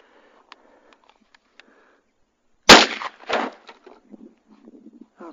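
A 20 gauge shotgun firing an HS6 three-shot shell outdoors: one sharp, loud blast after a few quiet clicks, followed by a second softer bang and fading rustles.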